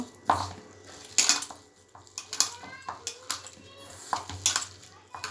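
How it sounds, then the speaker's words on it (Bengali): A prawn chop mixture is mashed and mixed by hand in a bowl, giving irregular squelching and knocking sounds against the bowl at close range, with a voice and light clatter of kitchenware in the background. "এইভাবে ভালোভাবে চটকে চটকে মাখিয়ে নিচ্ছি"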